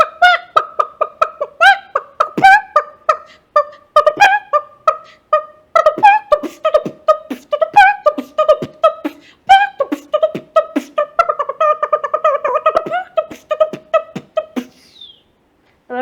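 A solo performer mixes beatboxing with a vocal rooster imitation: fast, steady percussive mouth clicks and thumps interwoven with repeated nasal crowing calls, loud and close, running continuously before cutting off near the end.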